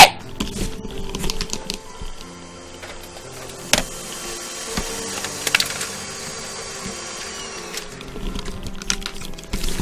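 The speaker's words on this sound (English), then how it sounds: "Something's printing!" Printer running in the Majikoi visual novel game, a busy mix of mechanical clicks, feed clatter and whirring that goes on steadily and fairly close, with no talk over it.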